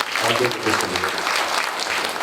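A church congregation at a St Anthony novena Mass at Amala Ashram breaks into a short burst of dense clapping in thanks, with a voice talking over the applause.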